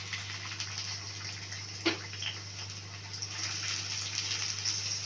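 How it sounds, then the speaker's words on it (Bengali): Bitter gourd pieces deep-frying in a generous amount of oil in a home kitchen: a steady, close hiss and fizz of bubbling oil with a low hum underneath and one brief clink partway through. "আমি এখানে করল্লাগুলা ডুবা তেলে ভেজে নিব"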